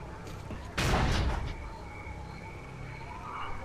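A sudden loud burst of gunfire from a machine gun in S.T.A.L.K.E.R.: Clear Sky rips out near the one-second mark and trails off over the next half second, leaving a low hum of game ambience.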